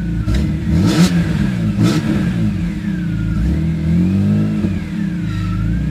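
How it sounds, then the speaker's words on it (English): A BMW E46 M3 engine with an aftermarket exhaust revs in several sharp, loud blips, the exhaust note rising and falling with a deep, throaty drone between bursts. "I'll just give it a couple blips here."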